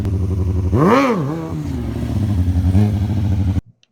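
A stunt motorcycle engine revs close by, one sharp throttle blip swelling and falling in pitch, then settling into a rough idle with another small rev before cutting off.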